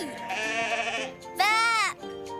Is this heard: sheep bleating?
yes